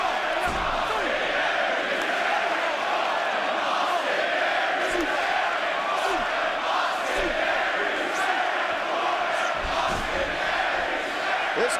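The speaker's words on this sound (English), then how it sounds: "This crowd just excited for this big matchup here between Baron Corbin and Austin Aries here in Dallas." A large arena crowd at a Dallas wrestling event roars steadily and loudly throughout, a dense wall of cheering and shouting with scattered whoops and bellows rising above it.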